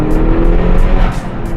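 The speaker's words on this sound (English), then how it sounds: "Once you're building at a high boost, you can kind of hear the flutter." A 2017+ Honda Civic Si fitted with a Boomba Racing full recirculating bypass valve, heard from inside the cabin during a pull under high boost: steady loud engine drone with faint fluttering bursts riding on top, no talking.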